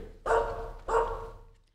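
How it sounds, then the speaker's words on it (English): A dog in an old-time radio drama gives two sharp, fairly close barks about half a second apart, each trailing off briefly. "Madam, you can't bring that dog in here."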